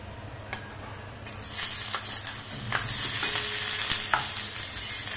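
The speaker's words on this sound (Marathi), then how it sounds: "त्याच्यातच कांदा टाकून घ्यायचा." Onion drops into a hot pan and breaks into a loud, steady sizzle that keeps building, with scraping stir strokes at intervals close by.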